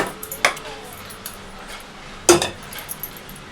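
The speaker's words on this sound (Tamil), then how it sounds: "கேஸ் ஸ்டவ் ஆன் பண்ணி குக்கர் வச்சுக்கலாங்க." A metal pressure cooker set down on a gas stove in a home kitchen, giving two sharp metallic clanks, one near the start and a louder one midway, with faint scraping and light clinks between.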